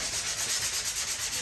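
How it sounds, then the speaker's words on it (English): Drywall patch being sanded by hand with 120 grit sandpaper, a close, rhythmic rasping scrape in quick regular back-and-forth strokes. "I'm using a 120 grit sandpaper or sanding block to really kind of smooth out this wall here"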